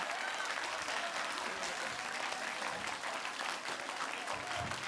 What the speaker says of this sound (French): Applaudissements pour notre champion!